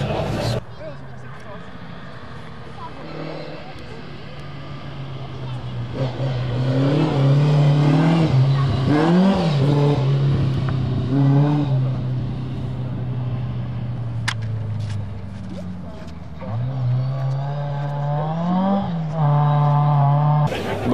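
A rally car at the Legend Boucles Bastogne revs hard in repeated rising and falling engine sweeps, loud and close, while someone talks throughout.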